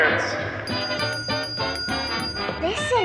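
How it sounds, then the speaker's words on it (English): A small bell tinkles in a scene from the film It's a Wonderful Life, with repeated bright rings heard through music and dialogue. "Teacher says every time a bell rings, an angel gets its wings."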